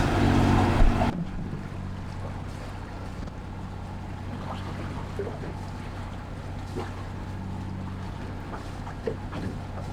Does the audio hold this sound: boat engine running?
yes